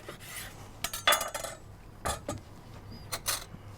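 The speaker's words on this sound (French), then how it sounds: "Donc une fois la butternut épluchée, on la coupe en deux." A knife halves a peeled butternut squash on a cutting board, making a few quiet, sharp clicks and knocks spaced irregularly, with no voices.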